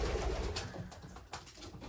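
Pigeons in a breeding loft coo softly and continuously, a low murmuring of several birds close by with faint rustling, brief and without talking.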